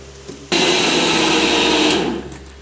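A blender grinding curd for lassi starts abruptly and runs as a loud, steady motor whir for about a second and a half, then winds down, close by with no talk over it.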